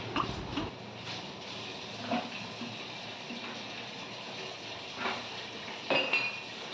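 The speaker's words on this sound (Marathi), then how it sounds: "आता भांडे घासायचे" Dishes, pots and pans being scrubbed and washed in a home kitchen, with scattered clinks and clatters of metal utensils over a low steady background, a few louder knocks standing out.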